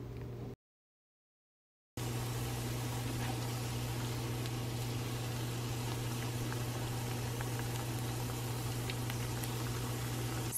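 Corn fritters frying in oil on medium heat, giving a steady, dense bubbling and crackle that runs unbroken after a brief silent gap at the start, with a low hum beneath.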